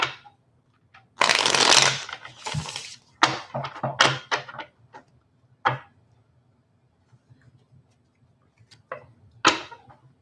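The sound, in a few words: shuffling playing cards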